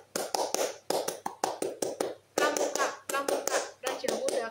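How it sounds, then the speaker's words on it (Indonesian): Two rounds of rhythmic Pramuka scout clapping, sharp hand claps in quick patterned bursts with short pauses between groups, fairly close and alone. "2 kali tepuk pramuka"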